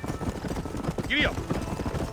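Horse hooves clip-clop rhythmically at a steady pace in the Red Dead Redemption video game, close and continuous, with a short whinny midway and voices talking over the hoofbeats.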